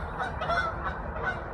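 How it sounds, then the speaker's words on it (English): Canada geese honk repeatedly in a short, moderately distant burst of nasal calls with nothing else over them. "those were just Cobra chickens, aka Canadian geese"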